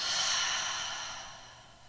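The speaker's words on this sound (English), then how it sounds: "Take one more of those big cleansing breaths." A single deep cleansing breath exhaled slowly during a yoga class, a soft airy whoosh close to the mic that fades gradually over about two seconds.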